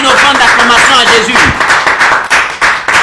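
Church congregation during a fasting and prayer service claps and cheers loudly in praise, dense, sustained applause close by with voices shouting and singing mixed in.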